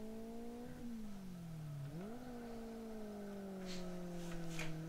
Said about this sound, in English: If we do a burnout, get our tyres really hot